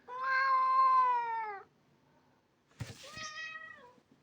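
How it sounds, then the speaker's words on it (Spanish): A cat meows twice nearby: a long, drawn-out meow, a short pause, then a second, shorter meow, in an otherwise quiet room. "Bueno, será mi gato."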